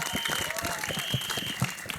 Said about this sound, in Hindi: अब्बास मस्तान साहब के लिए जोरदार तालियां.